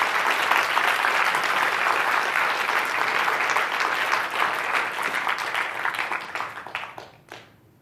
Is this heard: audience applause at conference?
yes